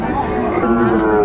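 A Sahiwal bull calf moos at a busy cattle market, one drawn-out low call rising and falling across the moment, set against a steady din of crowd chatter and other voices.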